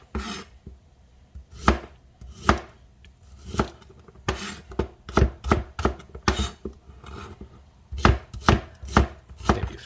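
A knife chops shallots into rings on a cutting board, giving a run of sharp, close thuds in irregular bursts with short pauses between them.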